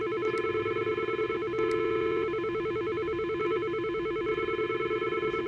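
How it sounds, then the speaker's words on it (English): An electronic telephone rings with a rapid warbling two-tone trill, repeating in steady bursts. "Phone's ringing."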